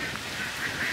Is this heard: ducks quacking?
yes